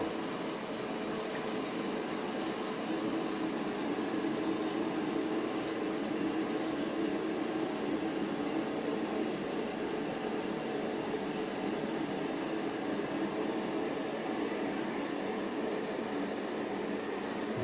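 Water rushes and hisses steadily into a plastic toilet cistern through a float valve, a continuous filling noise at low volume with no voices.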